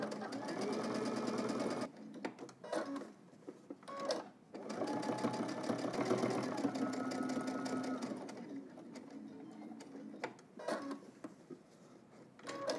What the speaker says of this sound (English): We're going to edge stitch here and then across the bottom.